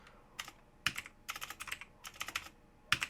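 Quick clusters of close, crisp keystrokes on a computer keyboard while typing code, with short pauses between the bursts and no talk.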